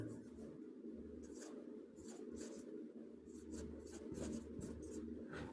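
Marker or chalk scratching across a classroom board in strokes and short pauses, faint and close, with no talk over it.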